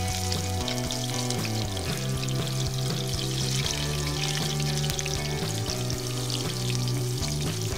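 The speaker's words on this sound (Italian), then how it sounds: "le ho messe a friggere nell'olio" Zucchini slices fry in oil for a Sicilian sweet-and-sour dish, giving a steady, dense sizzle that runs beneath louder melodic background music for the whole stretch.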